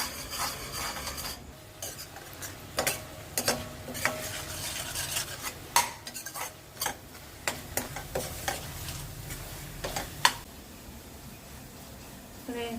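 Grated coconut stirred in a pan as it dries out, with repeated sharp scrapes and taps of a spoon against the metal over a soft background sizzle, fairly quiet and close.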